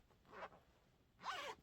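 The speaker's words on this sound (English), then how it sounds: "So there's this zipper pocket" A zipper on the lined outer pocket of a patchwork bag is drawn twice, a short pull and then a louder, longer rasping pull nearby, with no talking.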